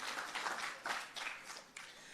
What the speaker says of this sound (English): You can clap, please, so the Minister knows we are serious.